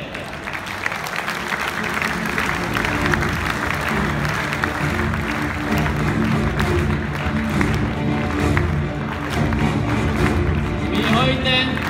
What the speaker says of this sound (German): Geben Sie einfach einen Applaus